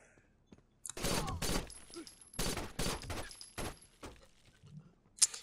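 Gunfire in the Rainbow Six: Vegas 2 video game: several loud, rapid bursts of automatic shots with short gaps between them, then a final sharp crack after a quiet stretch.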